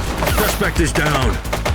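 Gunfire bursts in the police video game The Precinct, set during a gang-related shooting on Portalo Hill. Dense, overlapping shots crackle through busy game audio, with voices talking over the action.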